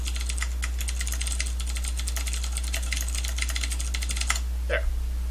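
Rapid, steady typing on a computer keyboard fills the clip with dense clicking keystrokes over a constant low electrical hum, stopping near the end.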